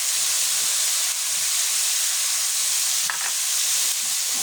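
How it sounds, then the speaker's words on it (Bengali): Garlic, ginger and lentils fry in a pan while being stirred, a loud continuous hiss and sizzle with faint scrapes of the spoon underneath. "এখন ভালোভাবে নাড়তে থাকবো"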